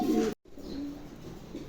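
Pigeons for sale at a market, a pair cooing in soft low throaty calls close by, cut by a brief gap, with no talk.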